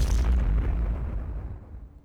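A deep, booming explosion from the Plants vs Zombies Fusion mod game hits at full strength and then rumbles away over about two seconds, heavy in the low end with no talk over it.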